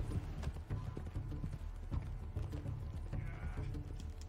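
Steady clip-clop of horse hooves plodding along at a walking pace in a video game, fairly quiet, over a low rumbling background with no voices.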